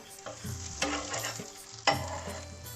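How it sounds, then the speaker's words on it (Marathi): Ghee drizzled around the edges of a millet pizza crackles and sizzles in a pan, with a few sharp clinks and scrapes of a utensil over the steady frying hiss. "त्याला आता आपण आजूबाजूने तूप टाकून घेतलं आहे"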